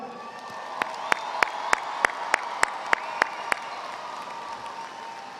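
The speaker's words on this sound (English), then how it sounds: "Give yourself a round of applause." A steady round of applause from a commencement crowd honoring graduates, dense and sustained throughout, with about ten sharp louder claps or bangs standing out at regular intervals over the wash.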